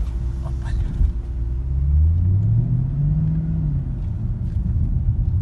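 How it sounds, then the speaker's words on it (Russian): A Mercedes E63 AMG W212 engine gives a low, steady rumble from inside the car, with a slight swell in pitch as the throttle is touched, while a voice talks faintly over it. "Этот постоянный гул от мотора,"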